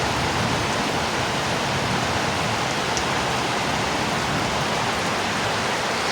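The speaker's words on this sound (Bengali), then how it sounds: "হঠাৎ করে অনেক জোরে বৃষ্টি পড়তেছে ভাই সাহাব" Sudden heavy rain pouring outdoors during a storm, a loud, dense, unbroken hiss of falling water that holds steady throughout with no voices.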